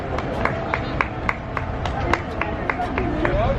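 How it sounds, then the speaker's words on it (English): Disney cast members cheering and clapping for runners along a 5K race course, with a steady crowd hubbub, scattered claps and footsteps passing close by, and talk in the background. "Got cast members out cheering for us."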